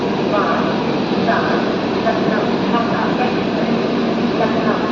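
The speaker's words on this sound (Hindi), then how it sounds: "ये उत्सर्ग एक्सप्रेस है" The Utsarg Express passenger train makes a steady, close rumbling drone throughout, with muffled voices faintly underneath.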